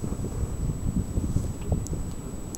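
Steady wind buffeting a small boat being paddled on open water, a constant low rumbling roar with faint rustling, loud and continuous throughout with no talking.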